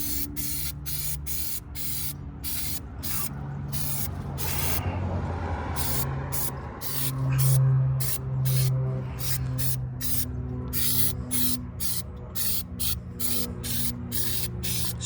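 Liquid sprayed onto a car wheel coated in thin PlastiDip, a rapid series of loud, sharp hissing pumps that pause in the middle and then resume, over a low background hum.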